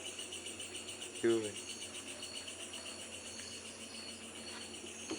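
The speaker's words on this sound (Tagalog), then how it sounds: "Mga kuliglig lang yung naririnig." Crickets chirp steadily in a rural night setting, a dense high-pitched trill running throughout, with a person briefly speaking over it.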